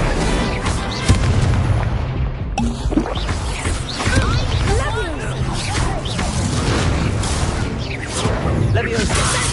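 Incendio fire spells cast in the Hogwarts Legacy video game during a fight, loud repeated whooshing blasts and impacts layered over dense combat noise, with a voice shouting spell names throughout.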